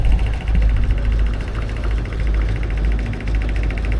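A Fordson Major E27N tractor running on TVO, a farm machine used for tillage and threshing, idles at a ploughing championship. It gives a steady, close mechanical chugging with a regular knocking pulse and constant background noise, and no one speaks.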